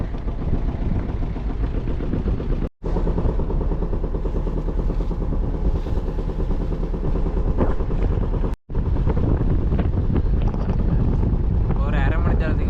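Boat ride away from Analaitivu island at midday, with a steady engine drone and heavy wind buffeting the microphone throughout, broken by two brief cuts.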